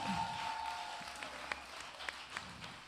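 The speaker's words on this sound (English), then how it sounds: "Clap your hands for JJ" An audience at the opening of an African book festival claps for an author, the applause fairly soft and gradually thinning, with a few isolated sharper claps near the end.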